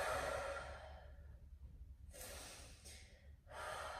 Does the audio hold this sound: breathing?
yes